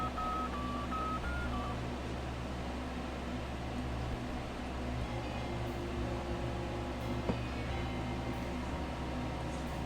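Payphone keypad tones in the DOS game The Dark Half, a few short dialing beeps at the start followed by a long, steady electronic hum and line noise.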